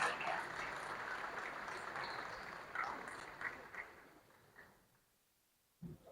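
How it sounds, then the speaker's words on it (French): A conference audience at a world music and tourism festival panel applauds with steady clapping that fades out over several seconds, leaving near silence and a final faint knock. "Sous vos applaudissements"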